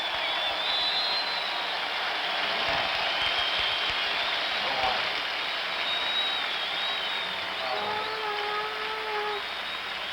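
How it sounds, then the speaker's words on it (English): Crowd at Fenway Park during Game 6 of the 1975 World Series, Reds at Red Sox, makes a steady, dense roar of massed voices that holds fairly loud and even throughout, with no clear speech above it. "let's listen to the crowd"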